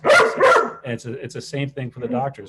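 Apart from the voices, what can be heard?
dog barking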